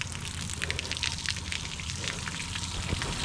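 Water rushes steadily out the back of a boat, a continuous splashing and pouring sound held close and fairly loud for a few seconds, with no voices.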